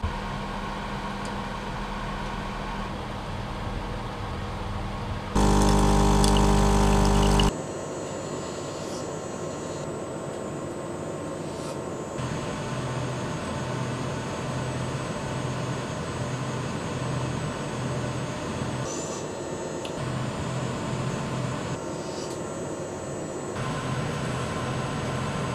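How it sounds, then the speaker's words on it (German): A reflow oven runs with a USB joystick circuit board on its grate, giving a steady fan-like whir with one short, much louder rushing burst partway through. "wir packen die Platine jetzt mal hier auf das Gitter drauf. Sie passt von der Größe her gerade noch so drauf. Und lassen sie mal durch den Ofen fahren."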